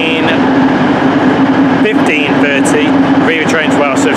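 A train rumbles at Holyhead station, a class 67 locomotive arriving, with a steady loud low drone and wheel and brake squeals rising toward the end, while a voice talks over it.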